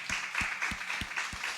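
A congregation claps for the Lord at a Hindi-language church service, five sharp, evenly spaced claps in a steady rhythm over a roomy background hum.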